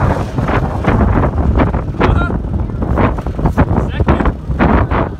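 Strong, gusty wind buffeting an outdoor microphone beside a Kawasaki Bayou KLF400 2WD ATV, a loud continuous roar with rumbling low bursts, voices talking faintly underneath.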